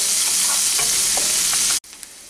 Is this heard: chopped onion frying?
yes